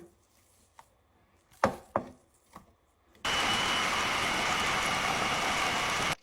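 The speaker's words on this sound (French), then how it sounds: "je rajoute un petit peu de viande hachée pour que je le hache avec" Onion and minced meat whirring together in an electric food chopper for stuffed aubergines, a steady loud grinding buzz running about three seconds after a few sharp knocks and clicks as the lid is set.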